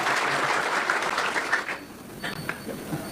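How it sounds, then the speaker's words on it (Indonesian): Applause from a crowd of students at a school event, a broad burst of clapping that thins out toward the end into scattered claps and faint background murmur. "Tepuk tangan loh."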